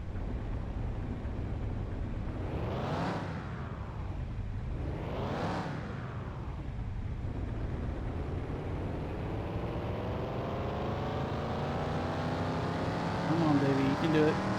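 Car engine with about 222 horsepower running on a dynamometer: two quick rev sweeps up and down, then a long, steady climb in pitch as it pulls through the gears, loud and continuous throughout.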